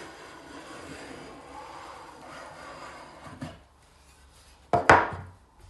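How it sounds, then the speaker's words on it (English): A block plane is pushed along the edge of a kitchen worktop during a refit. A soft, steady scraping gives way to a brief pause, then one sharp, louder shaving stroke that trails off. "slowly run your block plane over"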